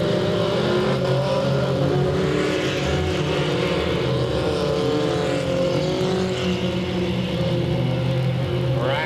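Race trucks roaring around the oval at Delta Speedway, a dense loud blend of engines revving and passing close by, continuous and without talk.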